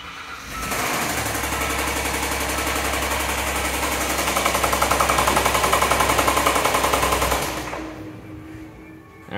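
Car engine with a problem cylinder cranks and starts, then idles with a loud, rapid, uneven rhythmic knocking pulse for about seven seconds before cutting off into quiet.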